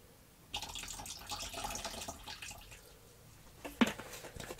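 Water is poured from above into a pot in a sun beetle enclosure, giving a steady splashing stream for about three seconds that ends with a small knock, close by and with no talking.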